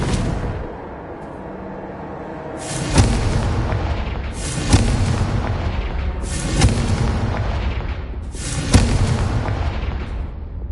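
Four heavy booming blasts from a Confringo blasting spell go off at roughly two-second intervals, each a sharp loud onset trailing into a rumbling decay, with no voices.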